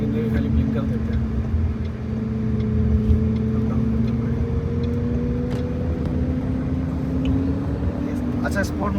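Interior drone of a Mahindra XEV 9e electric car on the move, a steady low hum with rising motor whine and road noise, while people talk inside the cabin throughout.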